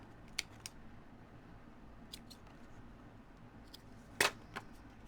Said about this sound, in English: then just trim them off even on the end.